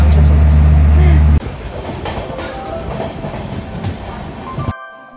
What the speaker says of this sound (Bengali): মাত্র 2 মিনিটের মধ্যেই আমাদের ট্রেন পুরুলিয়া ছাড়লো।